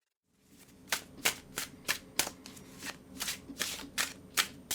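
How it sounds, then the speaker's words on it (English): A tarot card deck is shuffled repeatedly, with crisp riffling bursts in a quick, even rhythm, close up and without talk. "give the deck a really good shuffle for you"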